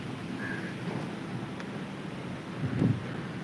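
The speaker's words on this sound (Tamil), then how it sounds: "இந்த மின்னல் தான் அந்த இடி" Thunder following a lightning flash in an approaching rainstorm: a short low rumbling crack near the end, over steady rain and wind noise on the microphone.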